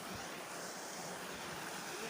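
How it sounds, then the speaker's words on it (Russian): A waterfall roars as a steady, broad wash of rushing water, constant and fairly distant, with no voices over it. "Вот тут водопад."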